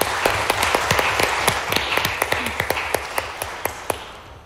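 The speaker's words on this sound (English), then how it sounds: "Give her a round of applause" Audience applause at a law school trial competition final round: sparse, distinct individual claps, sharp and fairly close, in an irregular rhythm with no talking.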